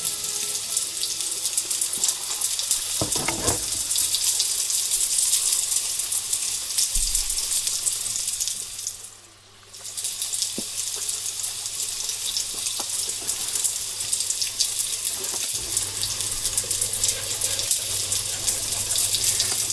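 Braised endives in a pan are deglazed with a little water: a continuous loud hiss and sizzle of water hitting the hot pan that briefly dips, then resumes steadily, close up with no talk.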